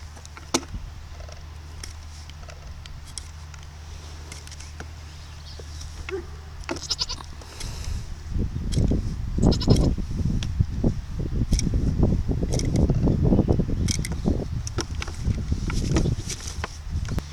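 A goat bleats a few times during hoof trimming with a block plane, its calls loud and close, with shuffling hooves, handling noise and a fan-like hum in the background.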